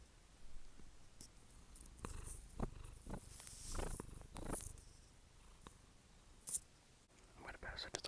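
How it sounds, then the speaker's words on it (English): A small cat purrs close up in a quiet room, a soft continuous rumble with faint breathy rustles and quiet whispered talk around it. "I'm gonna pass it to the little guy because he's purring."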